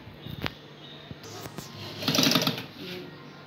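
A sewing machine runs briefly while stitching a churidar pyjama, a short rattling burst near the end among scattered handling clicks, fairly close and moderately loud.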